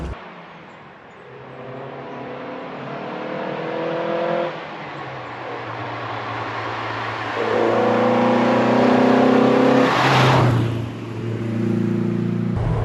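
A classic Italian Lancia Fulvia drives along a road, its engine a steady, close drone that rises in pitch through gear pulls with audible shifts between them, loud and continuous without any voices.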